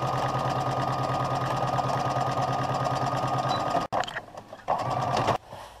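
A sewing machine runs steadily in a close, even rhythm while stitching an invisible zipper seam on a skirt, then stops and briefly restarts in two short bursts.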